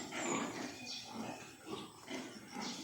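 Farm pigs grunt in short uneven bursts, fairly close, after heavy rain, with a soft background hiss between calls.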